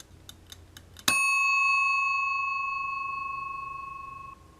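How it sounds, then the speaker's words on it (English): An old mechanical kitchen timer's bell gives a single bright, sharp ring that sustains and slowly fades for a few seconds, preceded by a few faint ticks. "So just listen to this bell."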